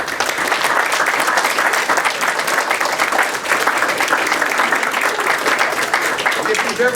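A room full of people applauds a young player's parents at his Stetson University signing event, a loud, even wash of clapping that holds steady for about seven seconds.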